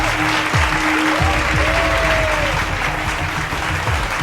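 Loud, dense applause from a theater audience fills the room at the close of a mind-magic stage show, holding steady throughout with a few faint voices and whoops mixed in.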